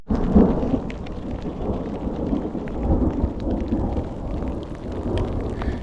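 Steady rain pours down at a mountain bike camp site along the Great Divide route, with low rolling thunder rumbling underneath throughout; no voices.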